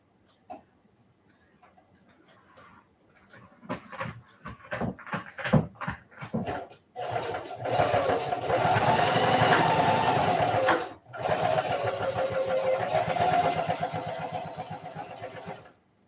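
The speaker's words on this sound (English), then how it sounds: "let me stitch this down real quick" A sewing machine stitching fabric, starting with a series of short stop-start whirring bursts, then running in long steady mechanical hums with a brief pause, close and fairly loud.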